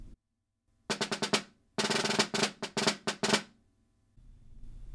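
Crisp snare hits in quick sixteenth-note bursts with drags as short ruffled grace strokes, played alone in two loud, tight phrases separated by a brief pause.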